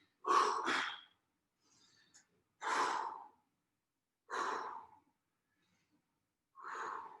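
Heavy breathing while someone holds a front plank during an adaptive fitness workout: four slow, loud sighing breaths at even intervals, close to the microphone, with silence between them.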